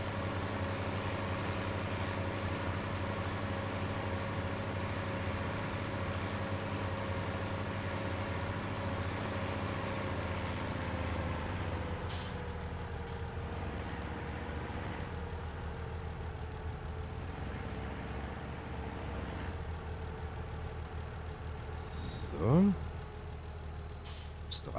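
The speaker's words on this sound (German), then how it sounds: "Lassen wir den Motor jetzt einfach mal laufen." Tractor engine idling steadily in Farming Simulator 19, a constant low diesel drone with a faint whine that lasts the whole stretch, briefly broken by a short hiss near the end.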